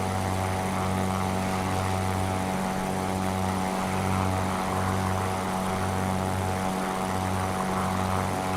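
Propeller aircraft engine idling at the end of runway 36 in a flight simulator, a steady close drone with a pulsing low throb, no talk.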